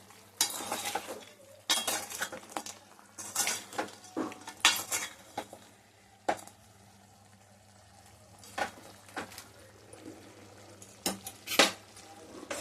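A ladle stirs country chicken curry in a metal pot, scraping and clinking in uneven bursts over a low sizzle, with quieter pauses between the strokes.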